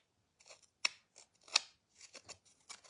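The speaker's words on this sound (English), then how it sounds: "just using your scissors, all you're doing is distressing the paper a little bit" Scissors snip and scrape along paper edges to distress them for a handmade Christmas card, making a run of crisp, close cutting sounds in uneven bursts with quiet gaps between.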